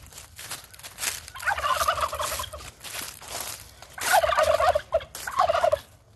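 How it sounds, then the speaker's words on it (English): Turkeys gobbling in an outdoor garden in fall, several loud rattling gobble bursts repeating near the microphone, alone with no talk. "Turkeys."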